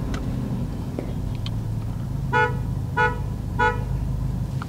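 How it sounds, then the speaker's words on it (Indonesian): A neighbouring car's horn sounds from inside the cabin of a Toyota Yaris: three short, evenly spaced toots, muffled but distinct over a low idle hum. "Mobil yang di sebelah itu diklakson tuh."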